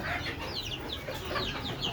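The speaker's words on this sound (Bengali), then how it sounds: "আমি কিভাবে দেশি মুরগি পালন করি দেখেন আপনারা।" About forty 75-day-old native chicks in a small rooftop coop cluck and peep continuously and close by, with overlapping calls over steady background noise.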